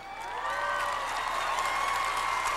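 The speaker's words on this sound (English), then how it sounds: "Give a round of applause, everybody." A crowd applauds and cheers at the G-Phoria 2005 video game awards show, with dense, steady clapping and whoops that swell and hold, and a faint tonal hum underneath.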